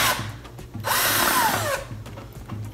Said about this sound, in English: I'm gonna start drilling slowly.